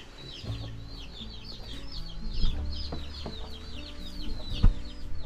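Chickens cluck and chatter in a busy group, steady overlapping calls with a few louder bursts, fairly close.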